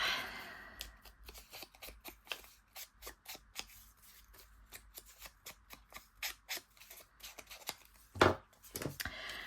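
Scissors snipping through envelope paper in a papercraft session, a quick run of short, crisp cuts close by, ending in a couple of sharper, louder snips with paper rustle and no talking.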